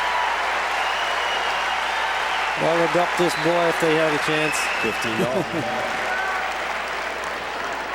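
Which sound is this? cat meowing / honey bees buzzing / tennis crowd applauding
tennis crowd applauding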